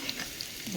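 Garlic and dried molokhia frying in a spoonful of ghee and oil, a brief steady hiss and faint sizzle, close and quiet.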